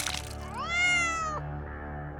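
A cat lets out one drawn-out, rising and wavering scream as a sound effect in a horror story. It is fairly loud and stands alone over a low background hum, ending in a sharp thump.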